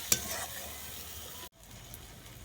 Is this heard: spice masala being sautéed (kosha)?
yes